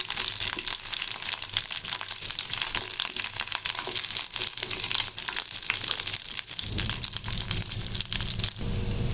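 Pieces of elephant foot yam fry in hot oil, giving a steady dense sizzle that crackles without a break. A low rumble swells near the end. No one speaks.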